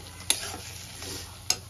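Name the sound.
potatoes and spice paste being stir-fried in a pan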